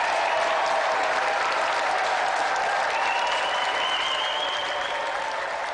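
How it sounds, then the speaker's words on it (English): A studio audience on the Gamesmaster TV show applauds a winner with dense, steady clapping that fills the whole stretch at a fairly loud, even level. "So let's have another round of applause for our gallant winner, Catherine Allen!"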